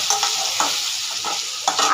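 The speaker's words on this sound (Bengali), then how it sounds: "এদিকে আলু ভাজা হচ্ছে।" Potatoes frying in a pan with a little extra oil for a vegetarian meal give a steady close sizzle, broken by a few stirring scrapes.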